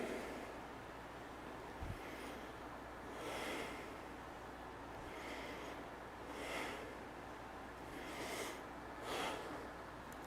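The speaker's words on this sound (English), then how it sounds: "Deep breathing." Deep, slow breaths during Hung Gar kung fu practice, several long inhales and exhales rising and falling in a regular rhythm, close and quiet, with no talk.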